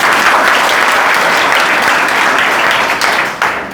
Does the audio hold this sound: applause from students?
yes